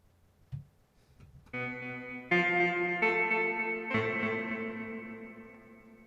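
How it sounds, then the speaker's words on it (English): Several sustained chords from an Electro-Harmonix (EHX) Mini Synthesizer enter one after another, each ringing out with a wide, washy reverb tail that slowly fades. "Let's add a little reverb."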